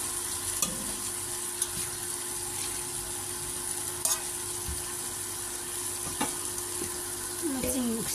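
Singi catfish and shrimp frying in a pan, a continuous crackling sizzle held steady throughout with occasional clinks and scrapes of a utensil, and no talk.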